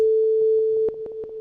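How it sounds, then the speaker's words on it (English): Synth plugin holding a pure sine tone that morphs into a pulsing version of itself, a steady beep joined by evenly spaced ticks that grow more prominent after the sine stops, no voices. "So essentially it morphed both of these two sounds together."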